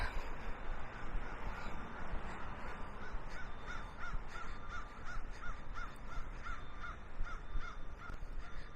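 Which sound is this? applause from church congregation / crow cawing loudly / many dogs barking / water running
crow cawing loudly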